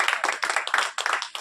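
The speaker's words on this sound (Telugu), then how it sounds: "ఒక్కసారి చప్పట్లు కొట్టండి." A church congregation clapping together in quick steady rhythm, many hands in bursts with short pauses, close and loud with no talk over it.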